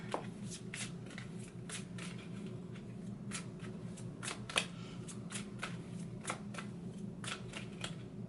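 A deck of cards being shuffled during a psychic reading, with repeated crisp riffling snaps and flutters close to the microphone over a steady low hum, with no talking.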